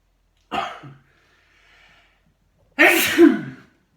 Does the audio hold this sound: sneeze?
yes